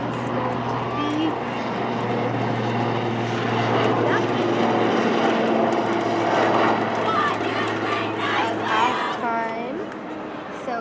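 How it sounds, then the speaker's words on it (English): Helicopter noise drifts over an outdoor varsity field hockey game, a steady low engine drone persisting for most of the stretch while crowd chatter and voices carry on over it. "you got a little bit of a helicopter there. You can hear a little bit of that noise"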